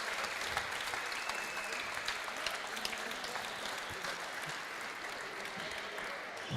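A squash crowd at the European Individual Closed Championships applauds on its feet, giving continuous, evenly sustained clapping that fills the whole stretch at a moderate, slightly distant level.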